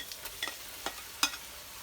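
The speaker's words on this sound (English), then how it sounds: "now we're just going to drop in 30 large king prawn." Large king prawns drop into a pan of hot curry with ginger, spring onion and garlic, making a few brief, soft splats and clicks spaced over about two seconds against a faint, low sizzle.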